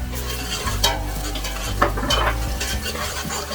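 Whole spices, cumin, star anise, bay leaf and a piece of cinnamon, roast in hot oil in a pot for palak gosht, with a close steady sizzle broken by loud repeated stirring scrapes against the metal.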